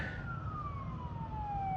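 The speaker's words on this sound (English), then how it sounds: "I hear sirens going" A faint siren wails in the distance, a single tone sliding slowly downward over a low background hum.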